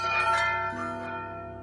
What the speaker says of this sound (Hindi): उसी समय शमशान की सारी घंटियां अपने आप बजने लगीं।